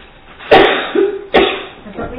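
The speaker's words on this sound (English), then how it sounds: "I'm going to cough again, I'm sorry." Two sharp coughs about a second apart, close to the mic, each trailing into a brief rasp, with some faint voice in between.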